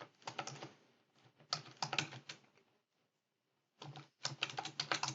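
Brisk clattering of fingers typing on a computer keyboard while filling in an Excel spreadsheet, fast bursts of keystrokes separated by short pauses, close and fairly quiet, with no voices.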